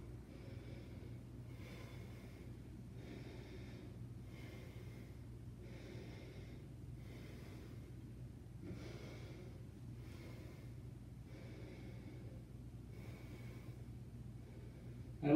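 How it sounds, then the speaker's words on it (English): A man catches his breath after squats with a 100 lb sandbag, taking heavy double inhales and exhales in a steady rhythm of roughly one breath cycle every second and a half, close to the microphone over a low background hum. "That double inhale, exhale is a good technique for catching your breath"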